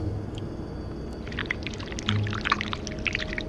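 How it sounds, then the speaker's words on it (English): A thin stream of wax poured from a pot in a video game, a soft continuous watery trickle with faint splashy detail, heard up close without talk. "we need to pour the wax from the pot"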